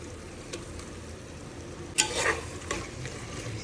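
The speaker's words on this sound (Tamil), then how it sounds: "ஸோ தக்காளி போட்டுட்டு லைட்டாக கிண்டிக்கோங்க." Sliced tomatoes stirred in a pan for chicken biryani make a low sizzle under brief scraping strokes, with one louder burst of clatter midway and no talking.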